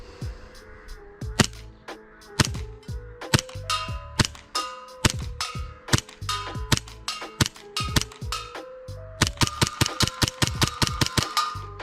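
Rapid series of sharp BB shots from a customized Hi-Capa airsoft pistol with a Maple Leaf barrel, about two dozen crisp clacking reports in quick irregular bursts, each with a metallic ring as BBs strike a target, close and loud.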